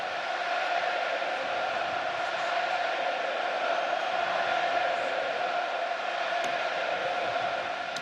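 A packed rugby stadium crowd roars continuously before a New Zealand versus France match, a dense, even wash of distant cheering and chanting holding steady throughout without any clear speech.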